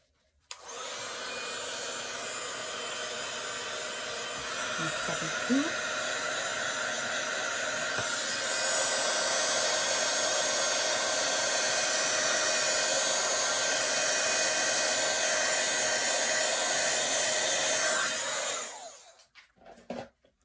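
A loud, steady blast of blowing air from a heat tool heating powder on a watercolour card roars for about seventeen seconds, growing a bit stronger partway through before cutting off abruptly.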